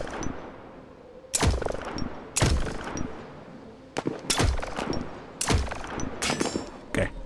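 A sniper rifle fires in the video game The Signal From Tolva, about ten sharp, loud cracks in an irregular series, each trailing a short echo over quiet ambience.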